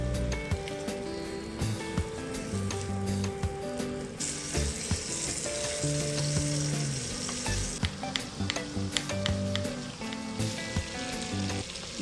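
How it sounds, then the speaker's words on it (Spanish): Chicken breasts, seasoned and dredged in flour, sizzle steadily in a little oil in a frying pan, a loud close crackle with clinks and scrapes from the pan throughout. "las salpimiento, las rebozo con harina y las sofrío con un poquito de aceite en la sartén"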